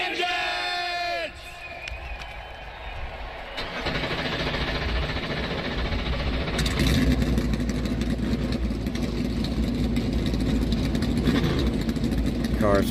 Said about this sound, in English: Cars fired up